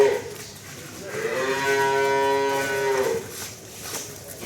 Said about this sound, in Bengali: দেখছেন গরুটা বিগ সাইজ গরু আছে